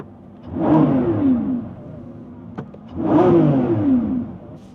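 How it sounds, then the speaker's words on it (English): A 2024 Lamborghini Revuelto engine revs twice in quick bursts, each roar climbing and falling away, separated by a short idle and a sharp click. "Give me a little rev"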